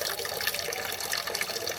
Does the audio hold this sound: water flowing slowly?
yes